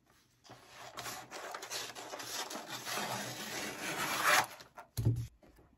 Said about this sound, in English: I'm going to cut me some tearaway stabilizer off